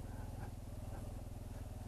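A Honda CT125 motorcycle rides over a bumpy, rutted trail in cold, wet weather, its small engine in low first gear giving a steady, close, pulsing drone that runs throughout.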